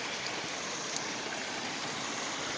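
A creek runs over a rock bed at a forest campsite in Oregon, giving a steady, soft, close rush of flowing water with no talking.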